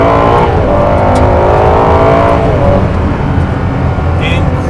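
A Ferrari engine revs hard to about 7,000 RPM, a loud sustained roar that climbs and then eases off, with people talking over it inside the car.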